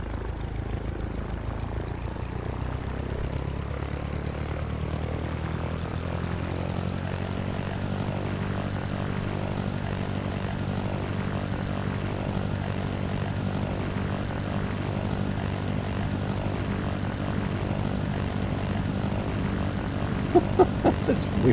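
In the Sierra Pro Pilot 98 flight simulator, a propeller airplane engine drones steadily and loudly on takeoff from Joliet, holding a constant, even hum throughout.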